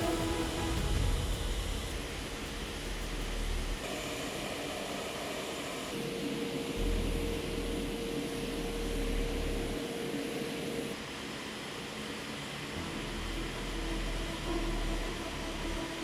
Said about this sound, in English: One after another, the C-17 aircraft lift off and begin the long flight to Qatar.